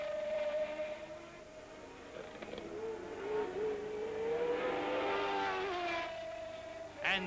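Formula One cars from the 1980 season scream down the long Mistral straight at a Grand Prix, a sustained high engine whine rising and shifting in pitch as the cars draw closer, with no talk over it.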